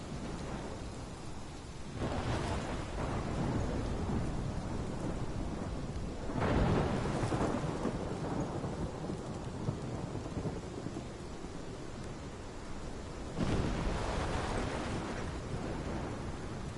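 Thunderstorm in a PS4 video game: steady heavy rain with three loud rolling thunder crashes at intervals, close and booming, with no voices over it.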